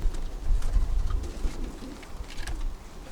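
Pigeons in a loft make soft, low cooing throughout, with wing flutters and scattered rustling nearby, continuous and moderately loud.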